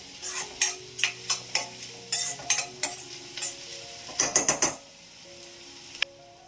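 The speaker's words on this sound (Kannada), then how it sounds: "ಇವಾಗ ಈರುಳ್ಳಿನ ಚೆನ್ನಾಗಿ ಫ್ರೈ ಮಾಡ್ಕೋತಾ ಇದ್ದೀನಿ." Onions fry in a pan with a low background sizzle, overlaid by a rapid run of rhythmic scraping clicks from stirring, then quieter with one last sharp tap.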